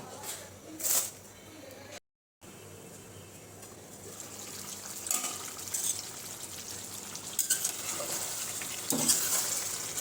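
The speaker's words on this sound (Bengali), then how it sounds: "আর এক হাত দিয়ে নাড়তেছি" Spoon stirs a papaya curry in a pot, soft scraping and sizzling with watery bubbling under a steady low cooking hiss, close but faint, with brief louder scrapes.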